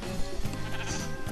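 A sheep bleats in a video game, a loud nasal bleat set against a dense, busy game soundscape.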